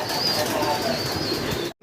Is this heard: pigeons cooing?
yes